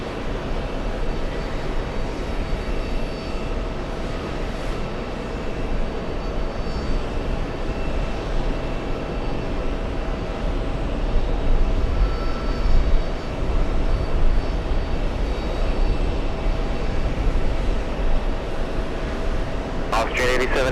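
An Austrian Airlines jet from Vienna lands at JFK, a steady distant engine roar that swells slightly louder midway and holds throughout, with voices talking faintly underneath.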